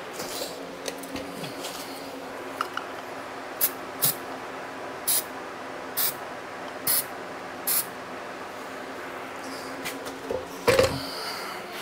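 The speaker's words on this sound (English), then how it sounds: "I'm gonna get some brake clean and blast out all the oil I just sprayed in there." Short bursts of aerosol brake cleaner hiss in a quiet room while cleaning oil off a motorcycle, about eight quick blasts spaced a second or so apart, with a longer spray near the end.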